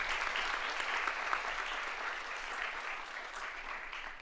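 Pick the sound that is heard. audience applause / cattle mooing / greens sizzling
audience applause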